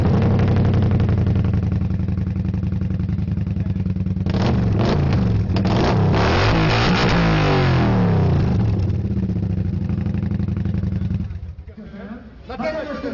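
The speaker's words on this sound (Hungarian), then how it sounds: "Tapsoljon az, akinek Kubi motorja hangja tettek jobban!" A motorcycle engine runs at a sound-racing contest during a motorcycle meet at a lakeside, a loud continuous drone with rising revs in the middle before it cuts back near the end, with a crowd faintly present.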